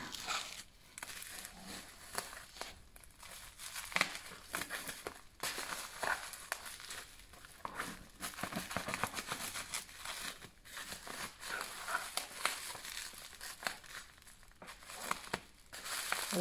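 Packaging rustles and crinkles as a parcel of bath products from a wholesaler is opened, a quiet close run of irregular crackling and crumpling bursts with small pauses between them.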